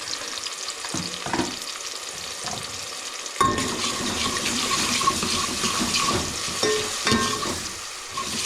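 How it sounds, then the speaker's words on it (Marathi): Tomato and onion fry in hot oil in a pan, a quiet sizzle with stirring scrapes that suddenly bursts louder and more intense partway through, then keeps crackling steadily. "आता आपला टोमॅटो शिजायला पाहिजे लवकर तेलात"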